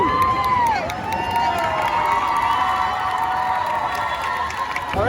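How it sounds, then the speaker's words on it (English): At an anime convention cosplay award, a crowd cheers and applauds continuously, with excited shouts and high whoops rising above the clapping throughout. "another round of applause for Cody"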